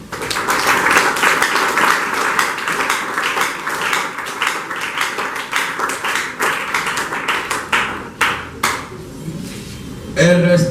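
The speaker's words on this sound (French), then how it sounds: "pour qui je vous demande de bien vouloir applaudir pour vous-même" Audience applause at a political gathering in the DRC, a crowd clapping steadily for several seconds and then thinning into scattered claps, with a steady tone running underneath.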